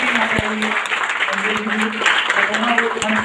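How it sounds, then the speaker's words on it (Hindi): Audience clapping for the host at an IMC business-plan meeting, a steady mid-level patter of hands mixed with a voice and a background tone throughout. "एक बार तालियां जोरदार दिलीप जी के लिए"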